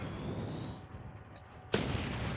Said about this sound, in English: burn out or disintegrate mid-air and deposit a volatile residue which when accumulated explodes on the enemy